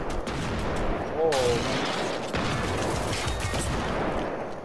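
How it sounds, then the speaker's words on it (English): Rapid, loud shotgun fire in the video game Generation Zero blasts repeatedly in dense, overlapping bursts, with players talking over the din. "Oh, the shotgun is so loud."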